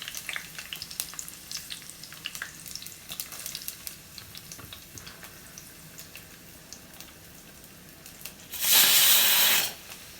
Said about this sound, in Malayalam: എണ്ണ ഏതാണ്ട് ചൂടായിട്ടുണ്ട്. ഇനി ഞാൻ ഈ അരിഞ്ഞു വെച്ചിരിക്കുന്ന എല്ലാം കൂടി ഒരുമിച്ച് എടുത്തിടുവാണ്.